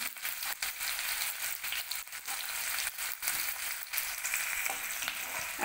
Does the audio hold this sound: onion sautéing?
yes